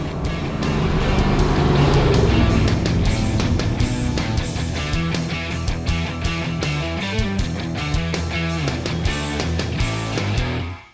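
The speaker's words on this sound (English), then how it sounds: "468 cubic inch big block, 700 plus horsepower, cruising along" A 468 cubic inch big block Chevy V8 in a Holden Torana cruises along with a loud, deep, steady exhaust burble, alone and close, fading out at the end.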